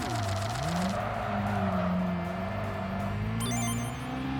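Engine of a Honda City Turbo racing in Tokyo Xtreme Racer: Drift 2, a loud, steady revving drone whose pitch dips and climbs as it shifts, with a brief tire squeal near the end and no talking.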